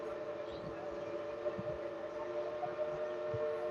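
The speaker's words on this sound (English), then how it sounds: "that train is loud" A train at Dollywood during the Smoky Mountain Christmas event sounds a sustained, steady whistle tone, loud and continuous through a crowded outdoor scene.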